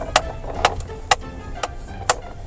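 A Maruti Suzuki Ciaz steering system gives off a faulty noise, five sharp clicking knocks spaced roughly half a second apart and heard close and clear over a quiet background hum.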